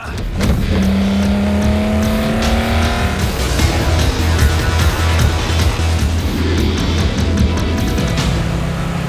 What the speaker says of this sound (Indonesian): Tatsuya dan Akio langsung menggaspol mobil mereka masing-masing